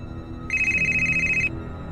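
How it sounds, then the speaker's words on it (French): A telephone rings once in a single warbling electronic burst of about a second, loud and clear over a quiet low background hum, with no one talking. "lorsque le téléphone sonne"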